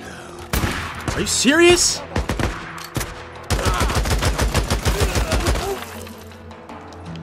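Gunfire in the video game Days Gone: sharp single shots, then a rapid burst of rhythmic automatic fire, loud and close, with a character voice briefly speaking between the volleys.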